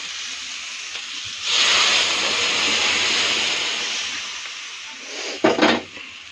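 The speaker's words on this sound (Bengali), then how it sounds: "এখন আমি ডালটা এর মধ্যে ছেড়ে দেবো।" Lentils poured into a hot pan of fried ginger burst into a loud, steady sizzle that slowly eases, followed by a brief clatter of stirring near the end.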